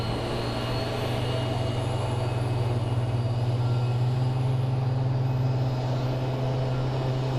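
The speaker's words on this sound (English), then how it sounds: "here comes a little baby Embraer about to land" Small Embraer regional jet on approach to land at Phoenix Sky Harbor airport, a steady engine drone with a strong low whine held throughout, moderately loud and unbroken, no talk.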